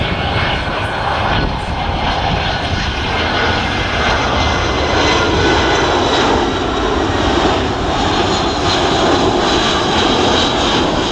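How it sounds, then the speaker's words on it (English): Display aircraft flies a low pass at about 150 knots and 100 feet at the RIAT 2012 air show, its engine roaring loud and steady throughout with no talking. "They're entering at about 150 knots and 100 feet, and when they get to display centre, it'll be into the dirty 360 that Spiv mentioned"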